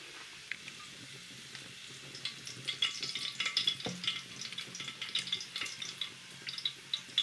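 Onions frying in a pan, a quiet hissing sizzle punctuated by irregular crackles and pops that grow busier toward the end, heard close with no talking.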